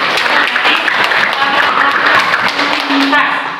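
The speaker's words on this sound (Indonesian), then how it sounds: "Tepuk tangan." A group claps together in a dense, steady round of applause during a coaching session, loud and close, with voices murmuring underneath before it tapers off.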